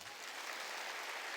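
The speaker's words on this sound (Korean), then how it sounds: "깨달은 사람만 박수 주세요." A church congregation claps together in sustained applause during a sermon, a brief, even wash of many hands at moderate distance with no pauses.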